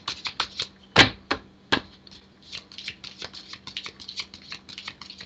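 A deck of tarot cards riffled and shuffled in quick bursts of crisp flicking, with a couple of sharper slaps, close by and fairly quiet.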